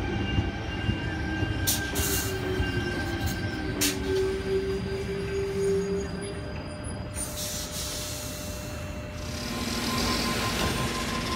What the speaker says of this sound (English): Bondi Junction service now departing platform number 3.